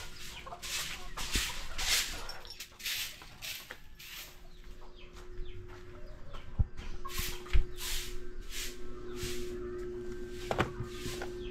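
Backyard chickens cluck and squawk in repeated bursts around six in the morning before feeding, mixed with a faint steady mechanical hum and a few sharp clicks.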